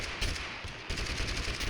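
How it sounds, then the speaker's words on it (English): Rapid automatic gunfire in the shooter game TABG, dense bursts of shots in quick succession with a short pause midway, moderately distant. "Oh, they're shooting back."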